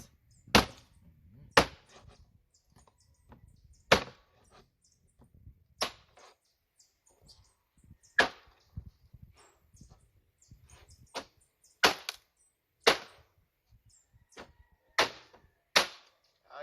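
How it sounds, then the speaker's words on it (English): A knife chops turkey neck on a board outdoors in Jamaica, sharp single thwacks spaced roughly one to two seconds apart, fairly close and clear against a quiet background. "Cook some turkey neck, man. Cut it up."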